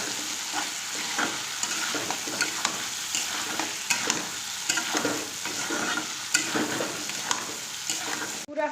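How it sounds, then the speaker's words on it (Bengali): Egg and potato curry cooks in a pan, giving a steady, close sizzle and frying hiss with repeated scraping stir strokes throughout, and no talking. "আলুটা কেটে নিয়েছি, এখন আলুটা দিয়ে এই যে ডিম রান্না করব"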